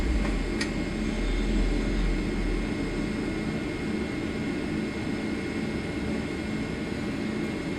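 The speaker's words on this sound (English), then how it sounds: "That's a nice smooth takeoff right there." Steady, loud jet engine roar of an airliner taking off in Microsoft Flight Simulator, a continuous droning whine with a low rumble that eases slightly after the first few seconds.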